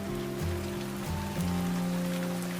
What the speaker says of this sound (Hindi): जोरों की बारिश शुरू हो गई।